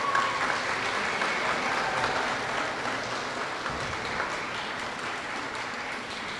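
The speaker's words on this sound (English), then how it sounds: "Round of applause for our third grade students." Sustained applause from an elementary school assembly audience greeting third grade students, a dense even wash of clapping filling the hall throughout.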